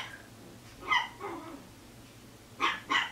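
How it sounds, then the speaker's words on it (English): A dog barks at a cat indoors, giving two sharp barks near the one-second mark and two more toward the end, fairly close and loud over a quiet room. "can you hear my dog? He's barking at the cat."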